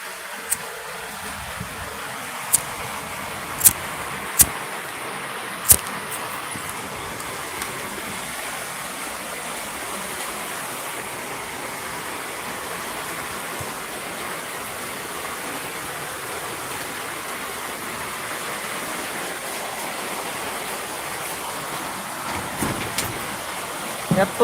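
Steady broadband rush of heavy rain and running water fills the whole stretch, with a few sharp clicks and knocks early on.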